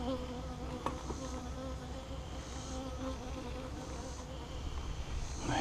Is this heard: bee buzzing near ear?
yes